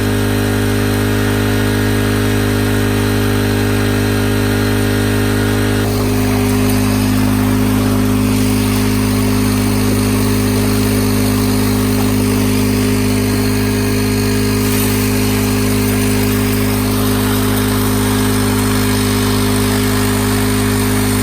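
A high banker dredge engine runs steadily throughout, a loud, close, continuous motor drone with a strong low hum and a shift in tone partway through, and no voices.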